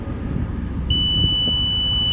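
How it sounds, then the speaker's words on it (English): A multimeter gives a continuity beep while testing a fuse from a Wacker Neuson roller compactor: a steady, high, continuous tone starts partway through and holds over low workshop rumble. "if it's not blown, if it's a complete circuit, it should beep."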